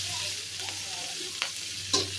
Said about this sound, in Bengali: হয়তো পেঁয়াজ কাঁচামরিচ দিয়ে দিচ্ছি। এটা একটু ভাজা ভাজা হবে।